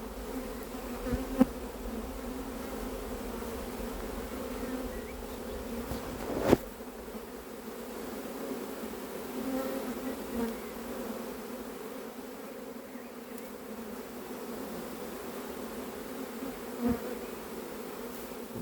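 A honeybee swarm buzzes inside a cardboard box, a continuous droning hum heard up close, with a few knocks and bumps against the box.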